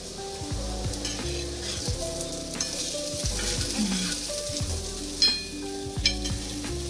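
Sweet potato cutlets fry in oil in a pan with a steady sizzle, while a utensil stirs and scrapes and clinks now and then.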